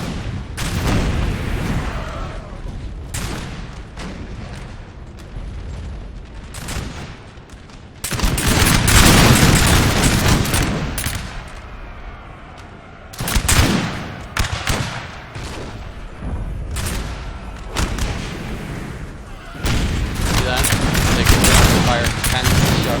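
Musket volleys and cannon fire from a Napoleon Total War battle between British and French armies, heard as repeated crackling bursts and booms that come in heavy waves over about twenty seconds.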